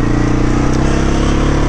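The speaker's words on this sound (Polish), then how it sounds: "No kład niestety, znaczy CF Moto 520 jest naprawdę głośny" A CF Moto 520 quad bike engine running loud and close, a steady throbbing drone with a pulsing low rumble and no breaks.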